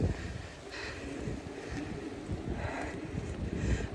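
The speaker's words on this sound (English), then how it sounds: "Windy." Strong wind buffets the microphone outdoors while walking home through heavy, pouring rain, a continuous rough roar with gusty low rumbles and no speech.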